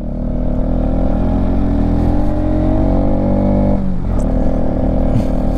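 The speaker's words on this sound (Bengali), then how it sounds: "বাইকটা খুব ভালো পারফর্ম করছে, থার্ড গিয়ার ফোর্থ গিয়ারেই চলছে বেশিরভাগ টাইম" Bajaj Pulsar NS200 motorcycle climbing a mountain road toward Changu Lake in Sikkim, its engine droning loud and steady under heavy wind rumble, with a brief dip as the throttle eases.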